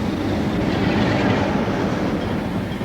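Train passing close by on a railway track, a loud, continuous rumbling roar with faint rhythmic clatter that stays steady throughout.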